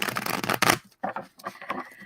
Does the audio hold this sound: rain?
no